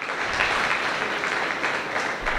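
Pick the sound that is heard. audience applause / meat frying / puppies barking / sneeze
audience applause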